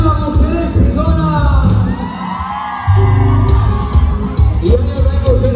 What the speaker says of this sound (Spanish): Y el grito de las mujeres chingonas.